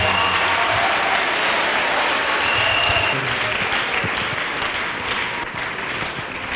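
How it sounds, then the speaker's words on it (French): A church congregation claps for Jesus Christ in loud, dense, steady applause that fills the room for the whole stretch, with no voices standing out. "Clap for the Lord Jesus."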